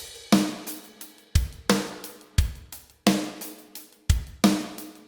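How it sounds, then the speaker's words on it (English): Programmed MIDI drum pattern played on the One Kit Wonder metal drum kit, loud and close, with punchy kick and crashing cymbal hits repeating in a steady, evenly spaced rhythm about once a second, ringing out between strikes. "switch out this pattern for the One Kit Wonder metal drum set"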